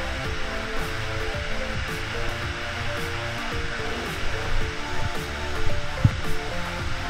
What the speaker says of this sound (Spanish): este es el final del recorrido hacia las cascadas